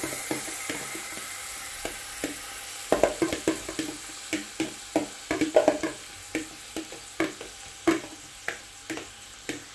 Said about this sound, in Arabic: هي البصله عندي يعني اتحمرت شويه، ببدا انزل عندي بالفريك